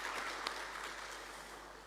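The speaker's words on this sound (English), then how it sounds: "I would like us to please give them a huge applause" A national conference audience gives brief, faint applause, a dense wash of clapping that tapers slightly over two seconds.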